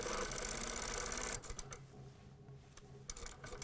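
A sewing machine stitches around the neckline of a vest, a loud, steady, fast mechanical whir that stops abruptly, followed by a few light clicks and handling taps of the fabric and machine.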